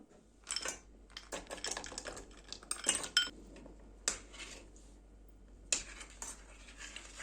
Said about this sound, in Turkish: Ocağımızın altını kapatıyoruz ve hızlı bir şekilde karıştırıyoruz.